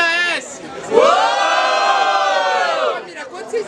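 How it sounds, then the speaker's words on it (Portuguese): A large crowd at a Brazilian street rap battle, the Batalha dos Estudantes in Guarulhos, São Paulo, roars and shouts loudly to vote for one MC, a sustained wall of voices swelling after a second and fading near the end. "quem achou que RZ foi superior, faz muito barulho"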